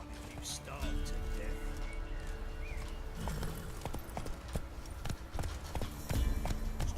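Horse hooves clip-clop at a steady trotting rhythm in The Witcher 3, with character voices talking over the game ambience.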